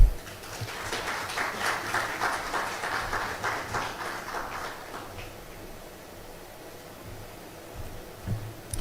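Audience applause at a media summit, a steady wash of many hands clapping for about five seconds, moderately distant, then fading into room noise with a few stray sounds.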